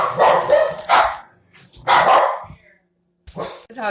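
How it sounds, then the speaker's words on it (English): Dogs kept in another room bark in several loud, close bursts during home kitchen meal prep with leftover turkey, with short pauses between the bursts. "The dogs start barking while they're in the other room at least."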